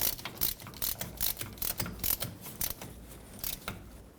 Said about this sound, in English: Now stick your ratchet back in here and just snug it up.